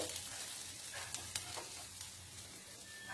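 Soft, steady sizzling of spices frying in oil, with a few light clicks of stirring, quiet and close with no talking.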